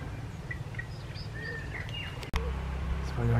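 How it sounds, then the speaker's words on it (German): Short thin whistles from a starling come through over a steady low background rumble, followed by a sudden shift into a louder, droning hum at the end. "Das war ja klar, ein Star."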